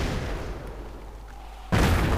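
Mortar fire in the World War II strategy game Europe in Ruins: a sustained low rumble of distant artillery, then a sudden loud boom of a shell launch or impact near the end.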